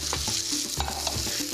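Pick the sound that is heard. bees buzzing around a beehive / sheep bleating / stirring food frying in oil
stirring food frying in oil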